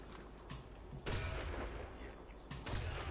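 Gunfire in the original Xbox game Brute Force, a few bursts of muffled booming shots over a dense, rumbling background, with someone speaking at times.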